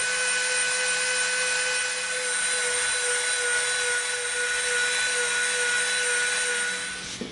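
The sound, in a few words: Dremel rotary tool cutting EVA foam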